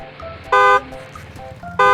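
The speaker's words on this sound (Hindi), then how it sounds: "पीछे से कोई हॉर्न मार रहा है यार" A car horn honks from behind on a roadside, two loud short blasts separated by a brief pause.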